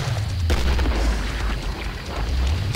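A grenade blast in the Killing Floor shooter game, a heavy booming low rumble with a sharp burst near the start, loud and sustained over the whole moment without speech.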